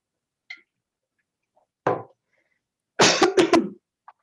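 A few separate coughs in a quiet room: one faint, one sharper, then a quick cluster of three or four harsh coughs close by.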